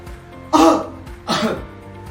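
A male COPD patient gives two distinct coughs in a quiet room during a physiotherapy breathing exercise, each a short, close, forceful burst about a second apart.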